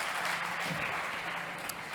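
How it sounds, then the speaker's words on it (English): Audience at a startup competition on energy transition and sustainability applauds, a dense, even wash of many hands clapping that sounds distant and fairly faint throughout. "Big applause for it"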